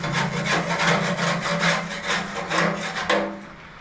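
A part being scraped and torn out during a workshop strip-down, giving a loud, continuous rasping and rubbing with rhythmic strokes and a sharp snap near the end, alone without talk.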